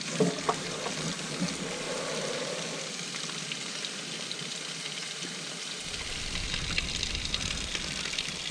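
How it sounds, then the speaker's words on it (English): A hose sprays water underneath a 4WD after a beach run, a steady hissing splash that changes tone as the stream hits the underbody, close and continuous. "get underneath the car and give it a solid hose down with this unit"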